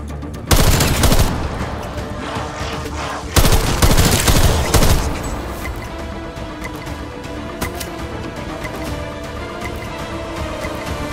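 Attack rifle gunfire in a video game, loud bursts of rapid automatic shots near the start and again around the middle, followed by sparser scattered shots and game noise.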